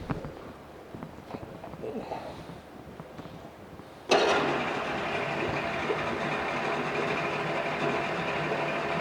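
A 1993 Force 70hp two-stroke outboard boat motor with remote controls, quiet handling noises followed by the engine suddenly starting and settling into a steady, loud running drone.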